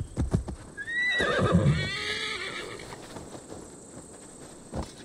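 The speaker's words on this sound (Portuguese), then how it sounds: "Deixa eu chamar cavalo pra ver se vem o, o deles." A horse whinnies loudly, then its hooves clop as it arrives, the call and footfalls taking the middle of the clip before fading, called in Assassin's Creed Valhalla.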